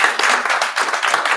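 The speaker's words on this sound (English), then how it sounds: "Let's give our panelists a round of applause." Audience applause for a panel of speakers at a talk just before a lunch break, a dense, steady wash of many hands clapping close by with no voices over it.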